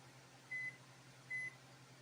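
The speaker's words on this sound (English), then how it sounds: "I'll set me a timer over on my microwave here in a few minutes." Two short, high electronic beeps spaced almost a second apart from a kitchen microwave oven being set as a timer, faint over a steady low hum of room noise.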